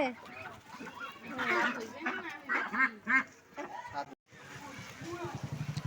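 Broiler ducks quack loudly in a repeated, overlapping chorus at close range, with people talking among them at a market purchase.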